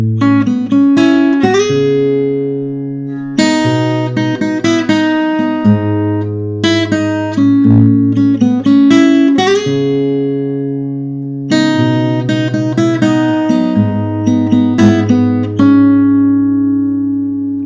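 Fingerstyle acoustic guitar plays a song, bars 6 to 13: close, clear picked notes over bass strings in a steady rhythm, with no voices.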